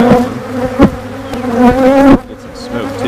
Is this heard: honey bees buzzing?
yes